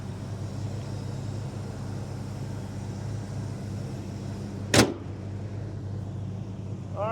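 A 1971 Oldsmobile Cutlass Supreme with a Rocket 350 engine and automatic transmission idles with a steady low, even hum throughout, broken once near the end by a brief sharp click or knock.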